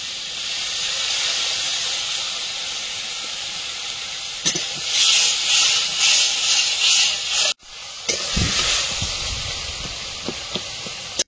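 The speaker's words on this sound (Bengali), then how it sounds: "মশলাটা জলে গুলে নিয়েছি, এখন মশলাটা দিয়ে দেবো" Spice masala mixed with water hits hot oil with a loud, sustained hiss and bursts of spattering, briefly cutting out before the sizzle resumes with sharp crackles and stirring clatter.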